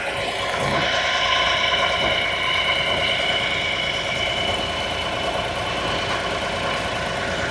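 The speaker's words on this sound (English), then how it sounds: "I don't know if you can hear this engine running." A Honda Acty HA7 mini truck's small engine idles steadily nearby, a continuous even hum with faint mechanical vibration and no talk over it.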